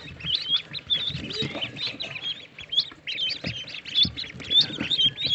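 Eleven ducklings and a chick peep and cheep in a busy, overlapping chorus of high, thin calls, close by and continuous.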